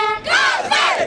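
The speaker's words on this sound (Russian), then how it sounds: "Чего стоят одни только болельщики на трибунах стадиона Дагао" Football fans in the stands at Dagao stadium in Dagestan roar and yell together in a loud, surging crowd cry, rising in two big swells.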